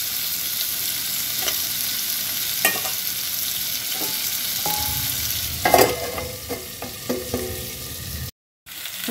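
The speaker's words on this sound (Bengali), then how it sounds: "আদার কাঁচা গন্ধ না যাওয়া পর্যন্ত আমাদের কিছুক্ষণ নেড়ে চেড়ে নিতে হবে" Vegetables with ginger, including potato, pumpkin and beans, sizzling in a pan for spinach dal, a steady close fry with scattered scraping and clinking stirs, then a brief cut near the end.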